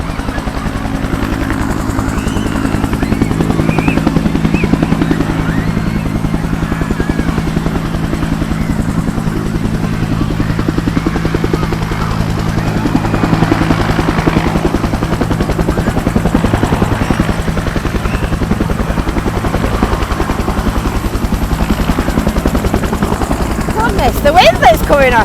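A Vietnam War veteran Huey helicopter hovering nearby during a Santa visit, its rotor throbbing loudly and steadily throughout with a deep rhythmic chop and constant wind noise.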